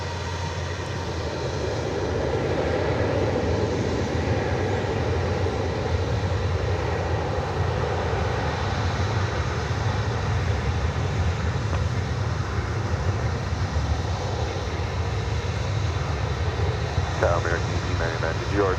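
An American Airlines Airbus A321 departs DFW for Phoenix with a continuous low engine roar and rumble, steady and moderately loud throughout, while a voice talks over it.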